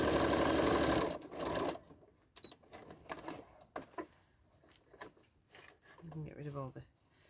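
A sewing machine stitches a quilt-as-you-go block, a loud steady whir for about a second, followed by faint clicks and handling noises. A voice comes in briefly near the end.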